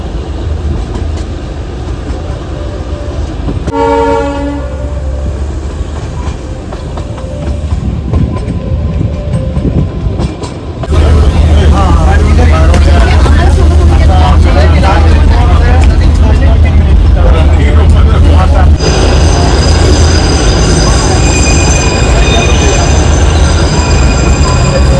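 The Darjeeling toy train running from NJP toward Darjeeling, with a loud continuous rumble and rattling of wheels on rails, metallic squeals and a horn-like tone, under intermittent talk nearby.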